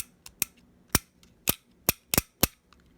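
A refrigerator's defrost timer with dirty, misaligned contacts clicks: about seven sharp, close snaps at irregular intervals over three seconds, with near silence between them.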